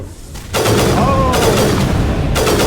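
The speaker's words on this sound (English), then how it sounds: "It has a shotgun in it." Loud bursts of enemy shotgun fire in Mass Effect's Feros combat, two heavy broadband blasts with a shorter quieter stretch between them, dense and close.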